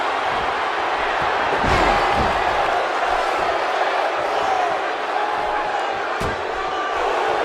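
A steady arena crowd roar from a WWE 2K17 wrestling match fills the whole stretch, with a couple of sharp thuds cutting through and commentators talking over the noise.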